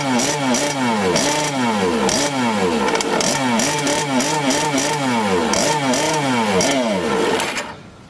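A small, high-revving JetSurf jet board engine runs loudly and unevenly nearby, its pitch rising and falling in rapid repeated surges before fading out at the end.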